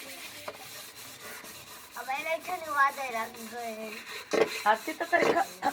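Pots and dishes get scrubbed by hand at home, with a rough rubbing, scraping sound and occasional metallic clinks of utensils, heard up close while a voice talks through most of it.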